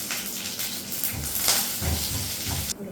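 Mustard seeds and urad dal crackle and hiss in hot oil for tempering, a close, moderately loud sizzle with brief pops and bursts of spitting.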